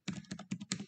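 Typing on a computer keyboard: four quick, close clusters of keystrokes clatter in steady succession within about a second, with no voices.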